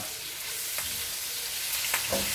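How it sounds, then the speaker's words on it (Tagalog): Big cuts of beef stir-fry in a pan for a beef stew, a steady loud sizzle with faint scraping stirs now and then, no voices. "I'm almost stir frying it if you notice."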